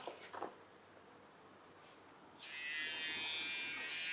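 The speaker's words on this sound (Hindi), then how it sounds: "ये देखो ट्रिमर में खुला हुआ ही दिखा दूँ" A cheap electric hair trimmer sold at a Delhi wholesale market switches on after a couple of seconds and runs with a steady, close, bright buzzing hum until the end, preceded by faint handling sounds.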